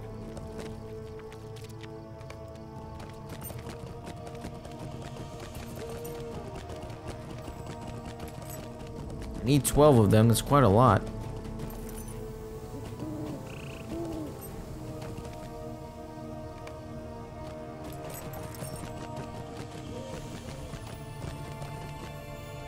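Horse hooves clip-clopping steadily while riding in LOTRO, with a louder burst of galloping and a whinny in the middle, under someone talking.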